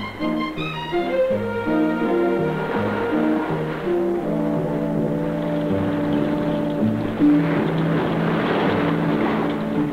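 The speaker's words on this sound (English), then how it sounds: "the cutter will just take the boat in tow for the rest of the way in" A boat engine drones steadily at sea while a Coast Guard cutter tows a boat, a tonal humming whose pitch shifts and wavers over a wash of broadband noise.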